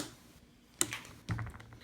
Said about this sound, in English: I like the clicky buttons.